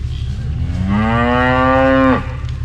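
A single loud, drawn-out cow moo from beef cattle on a livestock farm, rising steadily and then cutting off abruptly, over a low constant rumble of background noise.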